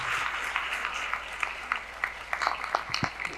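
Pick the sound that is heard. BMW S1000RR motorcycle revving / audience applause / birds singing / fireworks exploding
audience applause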